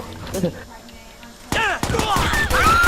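Gunfire in the video game Watch Dogs during free roam: quiet scattered sounds at first, then a loud burst of rapid shots and impacts in the second half, with people talking over it.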